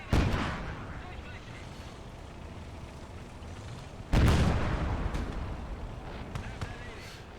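Heavy cannon blasts and rifle fire from tanks and infantry on a World War II battlefield in Gates of Hell, a loud boom opening the scene and another big blast midway, with scattered shots and rumbling decay between them.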